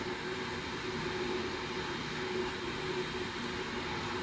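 A Lufthansa A319 airliner's engines roar in the Aerofly flight simulator game, a steady, loud, broadband drone with a faint tonal whine that holds unchanged throughout.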